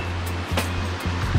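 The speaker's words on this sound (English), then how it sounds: "there's a waterfall up here" A river waterfall rushes in a steady broadband roar, close and continuous, with a low rumble beneath and no voices.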